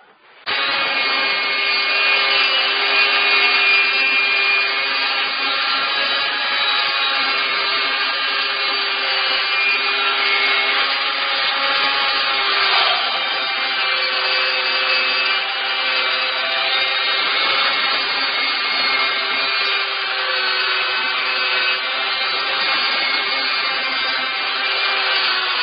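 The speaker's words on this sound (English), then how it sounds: "I'm gonna use a Milwaukee die grinder with a cutoff wheel on it and go round and round until" A Milwaukee die grinder fitted with a cutoff wheel slices steadily around a 10-inch steel nail, giving a loud, sustained, high-pitched whine with bright harmonic overtones that holds nearly constant for the whole stretch, with no talking over it.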